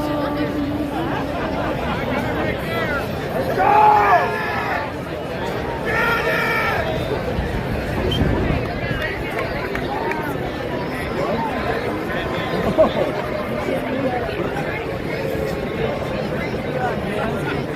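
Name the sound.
parade crowd chatter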